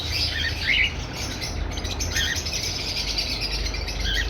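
A red-eye albino personata lovebird breeder pair, a green male with a white female, chirps in repeated bursts of short, bright, close calls over a steady background hiss.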